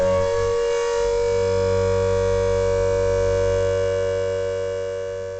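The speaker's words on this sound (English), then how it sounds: "you can hear the distorted wailing of an air raid siren" A World War II-style air raid siren wails in a distorted, droning tone with layered steady pitches, loud and continuous, slowly fading toward the end with no voices.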